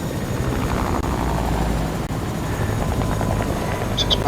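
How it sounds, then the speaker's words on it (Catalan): A helicopter in the video game Fortnite flies and descends, its steady rotor thrum and engine drone loud and continuous throughout, with no talk. "Per tant, giro l'helicòpter"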